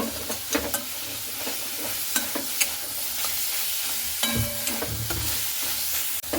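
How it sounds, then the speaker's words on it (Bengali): Soybean chunks stir-fried in a pan for a soya curry, a continuous hiss of frying broken by repeated scrapes and clacks of a spatula working the pieces, close and moderately loud with no voices. "আমি সয়াবিনটা কষে নিচ্ছি"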